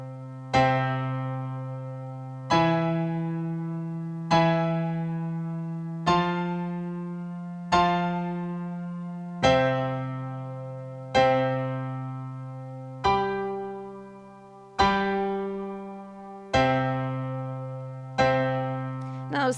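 Root-position piano chords played as sustained half notes, eleven evenly spaced chords ringing and decaying over a steady slow pulse, close and clear with no voices.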